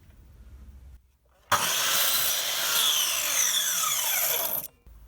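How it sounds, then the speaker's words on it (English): A mitre saw set a couple of degrees off square cuts a piece of wood for a campervan cupboard: one loud, close whine of about three seconds that starts and stops abruptly, with a quiet hum before and after. "I've just kicked the mitre saw over by a couple of degrees just to match the slope of that cut."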